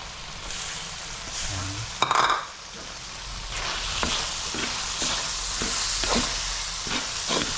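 Bean sprouts hiss and sizzle as they hit hot oil in a pan for sotanghon guisado, followed by steady frying crackle and rhythmic scraping stirs, close and fairly loud.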